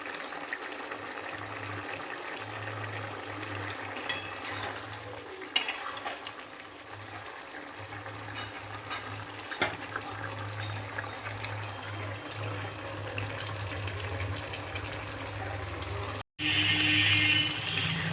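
Fried shrimp stirred into a simmering malabar spinach curry in a pan, with steady close sizzling and frying throughout, scattered scraping and clinking of the spoon against the pot, and a louder burst of sizzle near the end.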